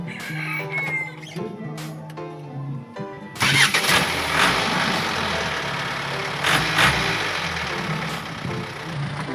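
A diesel vehicle engine cranks and catches after air is bled from its injection pump following a clogged strainer and running out of fuel, then settles into a loud, steady rough idle close by, with no talking.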